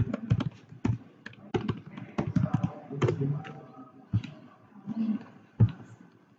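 Fingers typing a login ID and password on a computer keyboard, close and clear: irregular bursts of clacking keystrokes with short pauses between them.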